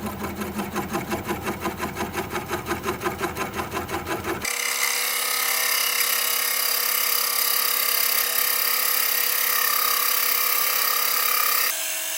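Wood turning on a lathe spinning at about 340 RPM: a rhythmic cutting chatter for a few seconds, then a steady loud whirring drone as a 1.25-inch hole is drilled into a small wooden candle holder.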